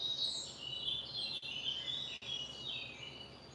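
Birds singing outdoors, a continuous run of high chirps and warbling trills at moderate volume, twice cut by brief silent gaps.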